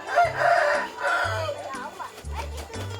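A Bangkok fighting rooster crows loudly and close, its harsh drawn-out calls repeating several times across the short stretch with little pause between them.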